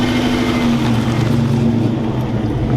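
An old Chevrolet Camaro's V8-style engine growls loud and close at a car meet, a steady rumbling drone with a slight rise in revs and no talk over it.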